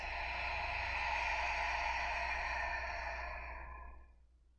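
A long, deep open-mouth exhale during yoga breathing, a soft airy rush held close for about four seconds before fading out, with no voice over it.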